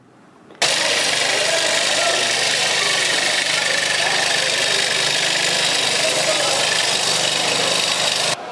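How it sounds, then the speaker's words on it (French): A large saw splitting an animal carcass in a slaughterhouse: a loud, steady mechanical whine with a constant hum starts abruptly and holds unbroken for nearly eight seconds before cutting off. "Et la grande scie qui divise l'animal en deux."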